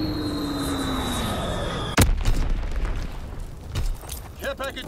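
A single sharp, heavy blast from a bomb killstreak in a shooter video game, standing out over constant game noise and a talking voice, followed by a rumbling tail and scattered smaller bangs.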